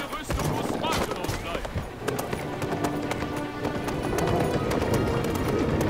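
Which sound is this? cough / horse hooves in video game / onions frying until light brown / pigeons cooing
horse hooves in video game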